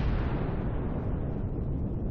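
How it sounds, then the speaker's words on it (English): An explosion in the space-survival video game Empyrion sounds as a sustained, deep rumbling boom that stays heavy and even for about two seconds, with no voices over it. "Show me the secondary explosion here."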